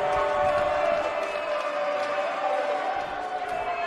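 Wrestling arena crowd in the video game WWE 2K19, a steady dense roar of many voices with scattered cheers, loud and continuous throughout.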